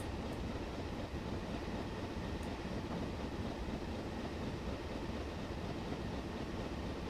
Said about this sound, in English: it's got the standard chuff of the 7F and Black 5 then